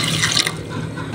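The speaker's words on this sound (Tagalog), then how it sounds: "Yan na po namin ng tubig para po sa pakuluan na po namin." Water pours steadily into a cooking pot, set for boiling taro rice cakes, as a continuous close splashing fill with no speech over it.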